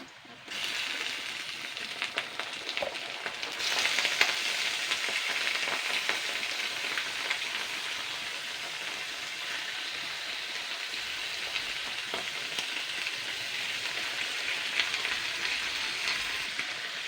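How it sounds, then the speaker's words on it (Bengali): Onion and meat frying together in a pan for an old-style chuijhal meat dish: a continuous, even sizzle like light rain, fairly soft and steady throughout, with a few faint knocks and no talk. "পেঁয়াজ আর মাংসটা একটুখানি ভেজে নেবো"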